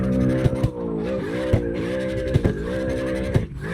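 A high-revving drift car in the racing game CarX Drift, rated at 1,203 horsepower, wails steadily while its tires squeal, with the engine pitch dipping and rising and sharp clicks or bumps breaking in every second or so.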